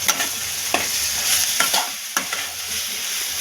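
Mashed roasted brinjal being stirred into an onion-chilli paste frying in oil, a steady close sizzle broken by a few soft spoon scrapes, with no voices.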